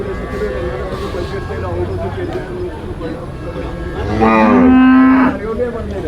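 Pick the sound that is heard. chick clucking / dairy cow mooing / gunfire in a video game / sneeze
dairy cow mooing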